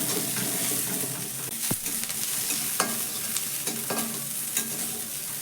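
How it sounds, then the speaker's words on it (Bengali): Ginger and green chili frying in a pan, a steady close sizzle with occasional stirring scrapes and clicks of a utensil against the pan, no voices. "আদা আর কাঁচা লঙ্কাটা একটু ভাজা ভাজা হয়ে যেতে"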